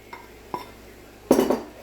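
Spam and rice stirred together in a pan give two light utensil clinks followed by a louder scraping, rattling stir, close and clear with no talk.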